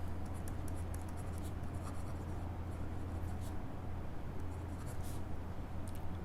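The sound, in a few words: writing on a board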